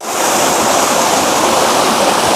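Water pours and rushes loudly, a steady roaring torrent falling from height onto a Himalayan gharat watermill (panchakki) used for grinding, continuous and close with no pauses.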